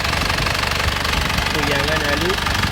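A warmed-up Isuzu Panther diesel engine running steadily nearby with a knocking, chugging idle rhythm, and someone speaking over it.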